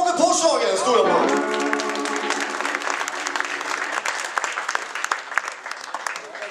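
A live audience applauds a guitarist at a band gig: a voice rings out over the start, then sustained, full crowd clapping continues at an even level to the end.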